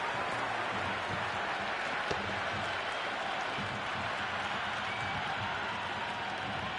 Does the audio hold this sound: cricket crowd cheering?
yes